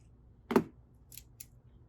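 Scissors cutting Cuddle plush fabric: one crisp snip followed by two fainter, shorter snips, close and quiet in an otherwise still room.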